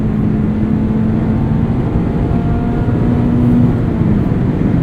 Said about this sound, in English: I just love the character of this engine. It's so rev happy.